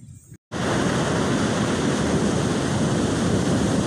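Ocean waves surge and wash continuously onto the beach at the St Lucia Estuary, a loud, steady roar of surf and wind after a brief quiet moment at the start.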